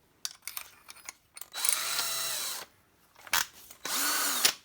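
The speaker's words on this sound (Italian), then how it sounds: "Questa punta di trapano non è assolutamente dritta, quindi il foro non è venuto bene" A TACKLIFE 18V PCD04C cordless hammer drill with a crooked bit drills a hole in two sustained whining bursts, with short clicks and taps before each, up close and without speech.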